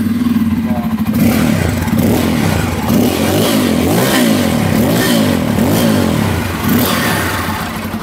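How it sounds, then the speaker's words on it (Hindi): Exhaust note of a Bajaj Pulsar N250 motorcycle, a deep throaty rumble that rises through repeated revs and falls back, loud and close throughout with no talking. "N250 का एग्जॉस्ट साउंड, इसका एग्जॉस्ट साउंड कैसा है सुनिए"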